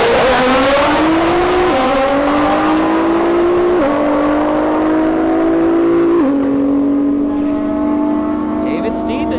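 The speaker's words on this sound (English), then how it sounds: "There's a turbo or boosted S2000 in the right lane." A turbocharged Honda S2000 drag racing down a quarter-mile strip, its loud engine climbing in pitch through several quick gear shifts, with a track announcer talking over it.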